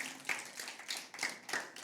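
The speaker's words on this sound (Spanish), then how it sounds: "¿Alguien le podrá dar un aplauso fuerte al Señor?" Brief, faint clapping from a small group, uneven bursts of hand claps over under two seconds.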